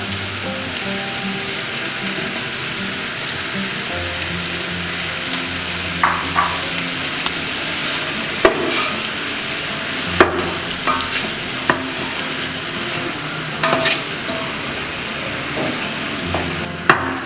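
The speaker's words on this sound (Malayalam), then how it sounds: "നാല് മിനിറ്റ് വഴറ്റിയെടുക്കുക" Chicken sautéing in a pan makes a loud, steady sizzle with a rain-like hiss, broken by frequent sharp clacks and scrapes of a spatula stirring against the pan, no voices.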